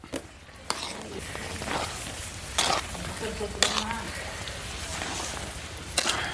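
Semolina kesari with sugar stirred in a pot, giving a close, steady sizzle with scraping spoon strokes and a few sharp knocks against the pot, while a voice talks over it.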